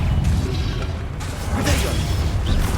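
An Expelliarmus spell cast in the video game Hogwarts Legacy: a sharp whooshing magical burst with a crackling impact, close and loud against ongoing game noise and mechanical clatter.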